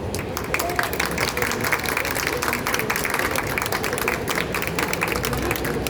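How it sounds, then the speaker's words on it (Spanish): An audience at a book presentation applauds, producing dense continuous clapping that fills the room at even loudness throughout. "para quien pido un fuerte aplauso"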